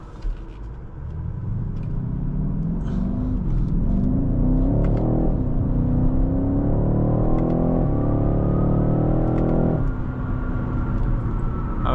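A 2023 BMW X6 M50i pulls hard under acceleration, its engine note climbing steadily through the gears with a deep rumble that drops briefly at a shift and rises again, loud and continuous from inside the cabin.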